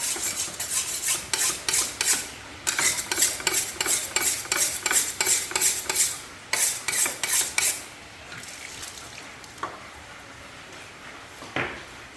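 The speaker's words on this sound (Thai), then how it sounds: "นี่นะครับมีดไม่ค่อยคมเดี๋ยวก็ฝนมีดให้คมนิดนึง" A dull home kitchen knife being sharpened by hand before chopping chicken for a curry: a steady run of rhythmic rasping strokes, close and fairly loud, then a pause and a few scattered scrapes.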